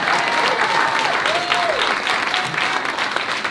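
Crowd at a political rally in San Angelo, Texas, breaking into sustained applause, a loud dense roar of many hands clapping throughout, with faint cheers and tones mixed underneath.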